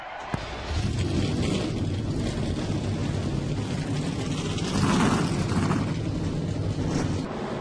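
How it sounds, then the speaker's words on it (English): Stock car engines fire up together at a New Hampshire oval race, a sudden loud, steady roar of many V8 motors that swells briefly midway and holds without letting up. "Drivers, start your engines!"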